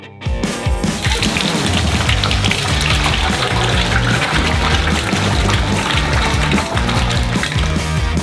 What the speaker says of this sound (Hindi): इसका आधा हिस्सा दूसरे सॉसपैन में डालेंगे।